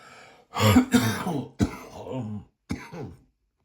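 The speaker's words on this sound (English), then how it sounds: "Excuse my coughing." A few harsh coughs and throat-clearing bursts close to the mic, in quick clusters with short pauses between them.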